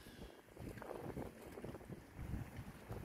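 Gusty wind blowing across a lake at a carp fishery in choppy conditions, a steady rushing roar with buffeting against the microphone and a faint wash of water underneath, no voices.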